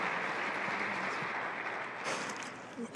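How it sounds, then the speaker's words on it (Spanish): A church congregation claps in welcome for a guest during a Sunday service, moderate steady applause that thins toward the end as a few voices and movements come through. "les pido un fuerte aplauso para él, para bienvenida y gracias por estar aquí con nosotros"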